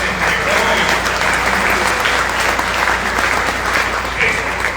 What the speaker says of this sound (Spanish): vamos a dar un aplauso a Julio